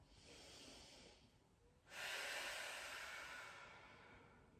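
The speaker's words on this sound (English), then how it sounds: "One more deep breath." Slow, deep breathing during a yoga session: a soft, airy inhale, then a louder, longer breathy exhale, close and alone with no speech.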